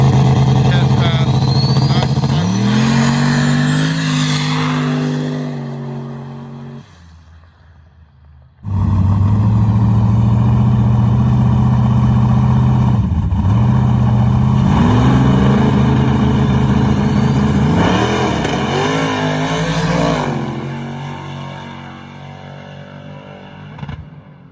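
A turbocharged LS-swapped Nissan Hardbody truck drag racing on a street, its loud engine roaring and rising in pitch through gear changes, dropping away briefly, then revving hard again; a commentator talks over it.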